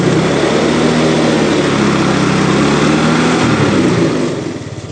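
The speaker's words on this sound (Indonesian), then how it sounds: "Coba kita gas ya." A 2005 Yamaha Mio 5TL scooter engine runs loud and close, its steady revving drone holding throughout before easing off slightly in the final moment, with no talk over it.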